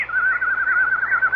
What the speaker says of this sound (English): That's a very rare nightingale.